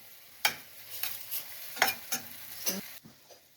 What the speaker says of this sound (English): I'm going to be putting apple cider vinegar into this as well. And I'm going to guess about 2 tablespoons. And stir that up.